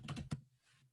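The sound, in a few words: typing on a computer keyboard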